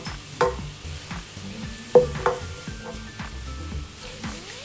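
Garlic sizzles in a frying pan while being cooked to light brown, a steady soft hiss broken by repeated scraping stirs and the clink of a utensil against the pan, heard close with no talking.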